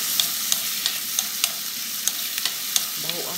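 Garlic frying in a pan, a steady crackling sizzle with sharp stirring clicks at a regular beat, a brief clatter near the end, no voices.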